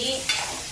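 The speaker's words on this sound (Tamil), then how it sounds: "கொஞ்சம் தண்ணி ஊற்றி" Water goes into hot masala in a pan while cooking chapathi curry, giving a brief, close sizzling hiss over a steady frying crackle.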